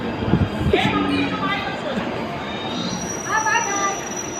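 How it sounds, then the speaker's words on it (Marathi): A crowded train pulling out of a station in Maharashtra on a night pilgrimage trip, its wheels squealing in several high, drawn-out whines over a steady rumble, with people talking nearby. "तर चला आपली पण आता ट्रेन निघाली"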